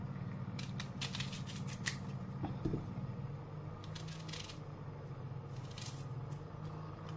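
A knife cuts tomatoes into quarters for homemade tomato sauce, with soft, irregular slicing and squishing sounds over a steady low background hum, fairly quiet and close, with no talking.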